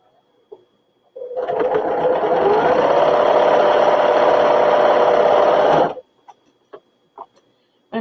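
A home sewing machine runs steadily for about five seconds at a close, loud, even drone, then cuts off. A few soft taps and knocks come before and after.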